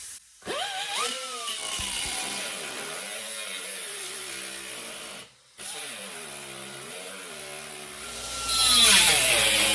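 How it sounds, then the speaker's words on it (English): A power tool slicing into the floor pan of a 1972 VW Super Beetle, a loud whining motor rising and falling in pitch as it bites, pausing briefly midway before resuming. "I'm going to slice this end to begin the cut and butt"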